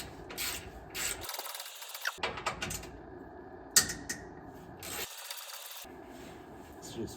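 A wrench loosens 12 mm bolts on the small plastic skid plate of a 2024 Toyota Tacoma, making quiet, close bursts of scraping and ratcheting that alternate with short silent pauses.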